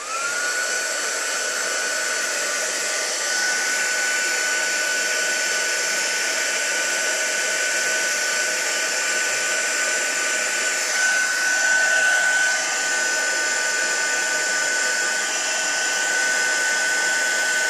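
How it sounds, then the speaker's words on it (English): An embossing heat tool blows in a steady, airy whir for the whole stretch, a constant high whine over rushing air with a brief wavering in the middle, no talking. "And I'm going to keep my heat tool out."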